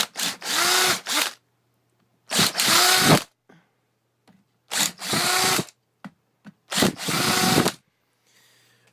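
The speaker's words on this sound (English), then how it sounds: "we can deal with that with a drill pretty quick" A power drill whirs in four separate bursts of about a second each, drilling holes on a boat, separated by short pauses, loud and close.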